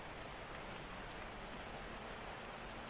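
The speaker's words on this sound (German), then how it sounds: "Es regnet, oh mein Gott." Steady rain from the Rocket League video game, a dense even hiss of falling drops filling the whole stretch at constant low volume, with no voices over it.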